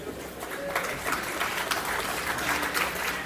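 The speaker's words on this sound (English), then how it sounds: "give yourself a round of applause first" Outdoor crowd applause at a Hill District grandstand sale event, a steady wash of clapping at moderate distance, fairly soft and continuous with no clear talk over it.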